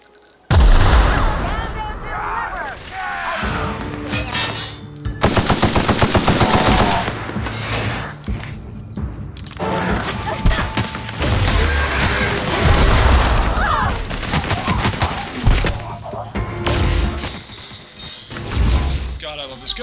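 Sustained gunfire from a favourite weapon in The Outer Worlds on Switch, with bursts of automatic fire and heavy booming impacts over a music bed, loud and near for about twenty seconds.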